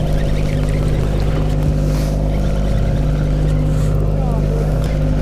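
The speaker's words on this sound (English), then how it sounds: "I could grab my motor." A fishing boat's outboard motor runs loud and steady offshore, a constant low droning hum that fills the whole stretch without pause.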